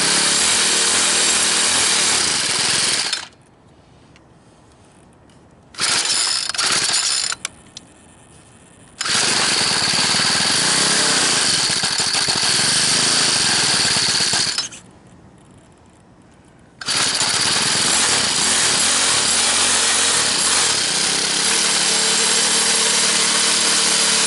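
Small four-stroke engine on a home-built quarter-scale hot rod, running with the choke nearly closed, a loud, close, buzzing drone that cuts out in two quiet gaps before picking back up, no talking.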